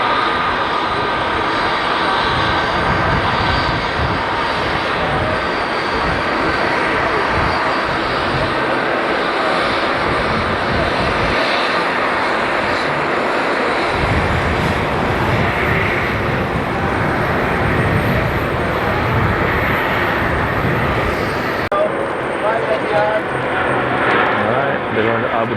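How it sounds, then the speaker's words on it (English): A jet airliner takes off from a runway at JFK airport, its engines producing a loud, sustained roar that continues throughout while a commentator talks over it. "the first takeoff after the runway change. Get your nose up."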